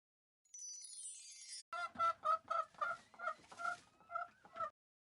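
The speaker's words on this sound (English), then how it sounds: "Chicken." A chicken clucks in a quick, evenly spaced run of about eight loud, close, nasal clucks, preceded by a short whistling sweep effect, with no other sound behind it.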